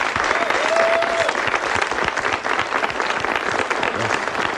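Applause for the sound crew after a live radio-play performance of The War of the Worlds, a sustained, full clapping crowd with a faint whistle early on, steady throughout.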